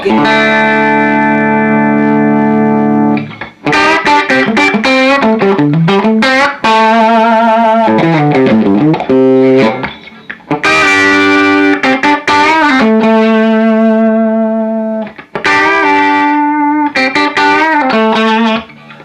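Electric guitar through a Gemtone ON-X15 amp's standard channel, played in bursts of chords and single-note runs, clean to mildly overdriven, loud and close with short pauses between phrases.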